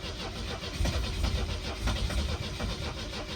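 A Volvo 242 engine churns and turns over steadily without catching, a low rumbling crank running continuously at close range.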